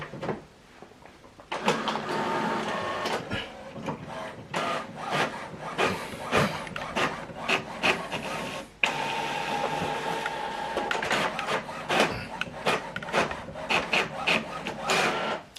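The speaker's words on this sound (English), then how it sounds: "Now this document is printing." An HP printer runs a double-sided print job sent from a laptop, giving close, rasping, rhythmic mechanical feed and roller noise that starts after a quiet moment and pauses briefly midway before continuing.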